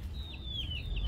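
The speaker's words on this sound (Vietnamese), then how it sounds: "Cái này có chuồng gà nè." Chickens in a coop in Phan Thiet, Vietnam, give a quick series of close, soft clucks over a low background rumble.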